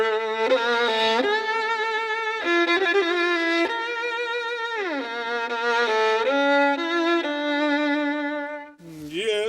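Violin bowed alone in a bright, sustained melodic line, notes sliding and shifting in pitch, loud and close throughout.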